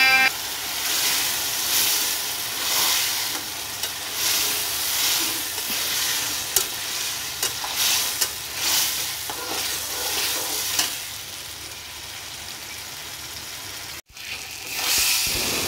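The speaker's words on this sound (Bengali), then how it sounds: "এবার সব উপকরণগুলোকে একসাথে মিশিয়ে নাড়াচাড়া করে" Ridge gourd cooked down with salt and turmeric, stirred and sautéed in a pan: a steady sizzle under repeated scraping strokes of the spoon, close and fairly loud, with no one talking.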